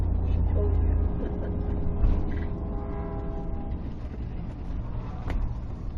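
A train rumbles past a road crossing beside the CNR main line, with a deep low rumble, creaking and screeching wheels and rail clatter, steady and moderately close.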